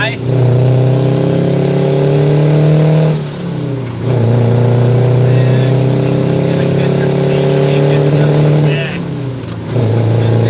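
A truck engine pulling in high gear, a loud steady droning roar rising in pitch through two gear shifts with brief dips between, close inside the cab, with someone talking over it.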